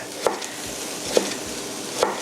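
A knife thinly slices beetroot for borscht, giving three soft, evenly spaced cuts on a board against a quiet kitchen hush.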